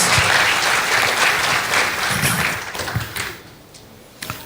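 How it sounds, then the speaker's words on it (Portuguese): An audience at a religious discussion gathering applauds warmly with dense, steady clapping that fills the room, then thins and fades over the last second or so. "a quem eu peço uma salva de palmas"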